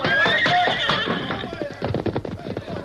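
Silver the horse neighs in a loud, shrill whinny that falls away, followed by rapid clip-clop hoofbeats amid a busy, noisy action scene.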